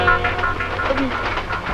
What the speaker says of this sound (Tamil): இது இந்த ரயில் எங்க போகுது?